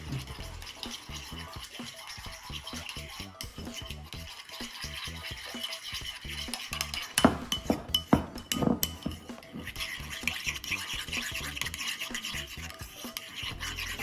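A utensil stirs chipotle mayo seasoned with salt and pepper in a bowl, producing continuous scraping and clinking against the dish, with a busier, louder stretch of stirring partway through and no talking.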